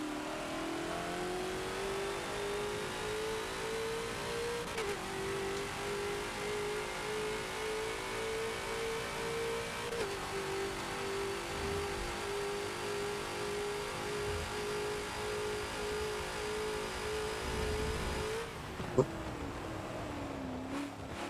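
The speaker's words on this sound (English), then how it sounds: "Chuck the car into the final corner." A Ford GT40 race car engine in the Forza racing game holds a steady, loud mid-pitched drone on the Mugello circuit, with short throttle lifts and gear changes before a sharp drop near the end, under quiet talk.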